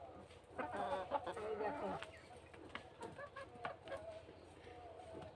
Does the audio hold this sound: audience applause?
no